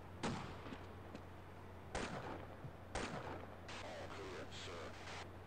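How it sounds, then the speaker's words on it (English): Gunfire in Half-Life: three sharp, loud shots about a second apart, then a burst of rapid firing with ricochet-like tones, all over a steady low hum. "Who be shooting at me, yo?"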